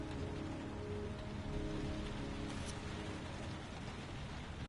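Steady rainfall in the game Heavy Rain, a dense, even hiss of drops on surfaces that continues for several seconds before a sudden cut to silence.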